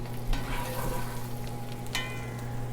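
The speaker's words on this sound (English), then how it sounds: "I like to add another teaspoon of butter, just so it starts foaming up again" Butter foaming and sizzling in a pan beside a searing bone-in ribeye steak, a steady close crackling hiss with a low hum underneath, alone without talk.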